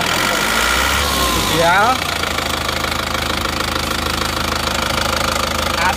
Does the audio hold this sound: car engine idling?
yes